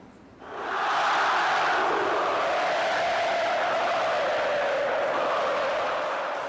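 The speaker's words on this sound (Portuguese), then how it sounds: "Festa da torcida" Cruzeiro football supporters roar in a stadium, a dense distant crowd cheer that swells quickly and holds steady throughout.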